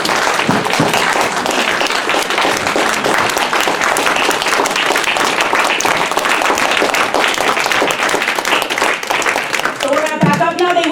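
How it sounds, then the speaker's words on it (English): A crowd at a talk by Israeli soldiers gives them a warm, sustained round of applause, loud and continuous, fading toward the end as a voice begins to speak. "Please give them a warm round of applause for coming out here."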